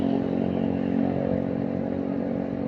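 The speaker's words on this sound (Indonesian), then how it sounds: "ini knalpotnya berisik lagi" Loud, noisy motorcycle exhaust drones steadily nearby on a flooded Jakarta street, a rough, uneven rumble holding for a few seconds without speech.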